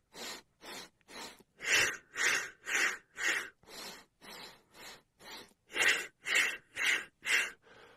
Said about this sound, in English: if you're inhaling 4 breaths in a row, so it's, and then you're exhaling 4 in a row